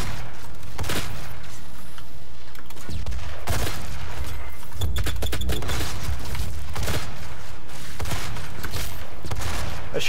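Shotgun blasts and gunfire in a DOOM multiplayer match: loud, close, sharp bursts come in irregular clusters over a constant rumble of game action, with heavy booming thuds mixed in.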